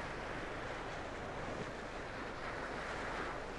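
Waves washing up and drawing back over a shingle beach, a continuous broad rushing roar of surf with wind, steady and fairly close, with no voices.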